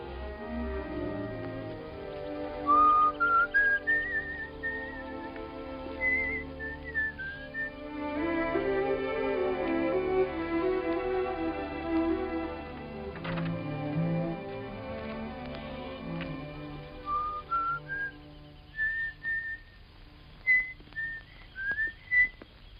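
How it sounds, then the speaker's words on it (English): A person whistles a light, wandering little tune in clear, bright phrases over soft orchestral film music, pausing between runs and returning near the end. "you wait here and whistle yourself a little tune till I come back"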